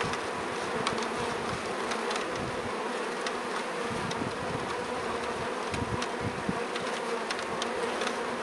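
Honeybees buzzing steadily and loudly up close while a package of bees is installed into a hive, a dense continuous drone with light handling rustles and no talk.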